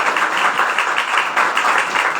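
Applause from a church congregation, a dense steady patter of clapping hands that fills the room at a loud, even level with small surges and no talk over it.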